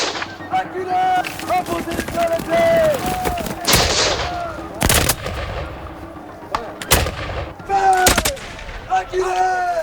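Siege-era musket volleys and cannon fire crack and boom in repeated heavy blasts, each loud report followed by a rumbling decay, spaced irregularly across the scene.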